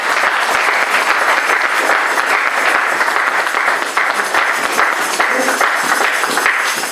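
A congregation claps loudly and steadily in praise of the Lord during a church youth gathering, with dense, continuous applause that fills the whole stretch and never pauses.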